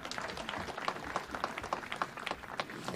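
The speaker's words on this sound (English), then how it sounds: "Let us give our Prime Cabinet Secretary a better clap" Audience applause at a university graduation ceremony, a steady wash of many hands clapping with dense, irregular claps throughout, fairly loud and sustained without talk.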